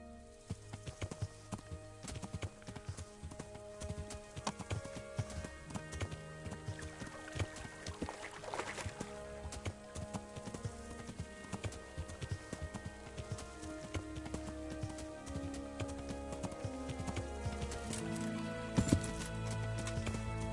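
Horse hooves clip-clopping at a steady gallop in Kingdom Come: Deliverance on PS4, loud and continuous under layered game music and ambient sound, with no talking.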